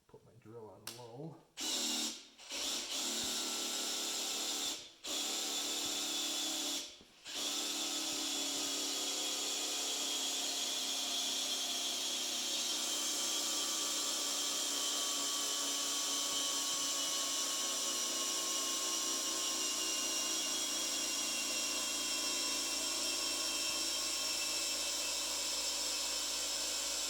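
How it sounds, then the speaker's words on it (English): An electric drill on low speed turns a socket to prime the engine oil on a GMC Motorhome, starting with a few short bursts and then running as a steady, loud whine for a long stretch. "Drill on low."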